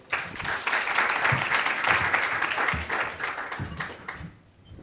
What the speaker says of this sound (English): give her a warm, welcoming applause